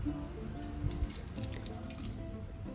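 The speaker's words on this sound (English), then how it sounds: "In that I am adding 2 tablespoons of water." Water poured into half a cup of jaggery powder in a pan, a soft close trickling and dripping that runs steadily for a few seconds with no voices over it.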